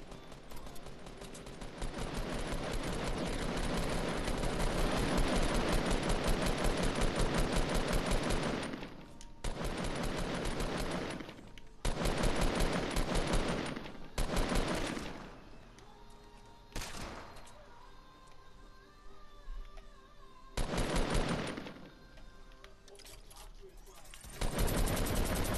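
Rapid automatic gunfire rattles in Fortnite, a long loud sustained burst followed by several shorter volleys separated by brief pauses.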